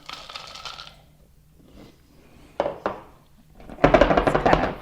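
Chopped pecans poured into a glass cookie jar make a brief soft rattle, then two sharp clicks and a dense burst of nuts clattering and settling.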